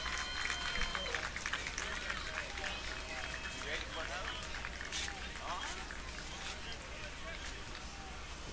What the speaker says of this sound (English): let's give them a great round of applause for their play here this week